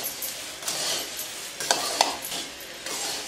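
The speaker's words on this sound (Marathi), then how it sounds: "आता हे मीठ आहे ना आपण चांगलं मिक्स करून घेऊ" Salt is stirred into roasted poha chivda, a dry, crisp shuffling and scraping of flakes in a pan, with steady rustling and a couple of sharper clicks of the spoon, close and alone.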